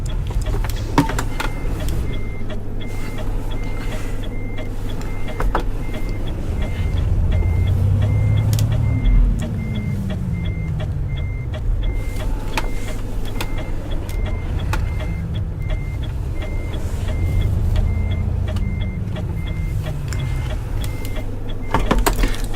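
A car engine hums steadily at low pitch as the vehicle is put in gear and driven, its tone rising and falling with gentle accelerations, with no talking heard.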